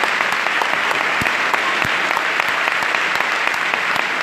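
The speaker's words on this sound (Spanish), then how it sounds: "¡Aplausos para Carlos Torrío!" Loud, dense applause from a crowd at a club's 25th anniversary event honouring Carlos Torrío, with many hands clapping continuously at close range and a few sharper individual claps standing out.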